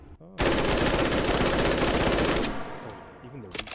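A gun fires in the VR shooter H3VR as one long, loud, close automatic burst of about two seconds. A mechanical rattle and faint clicks follow as the firing stops.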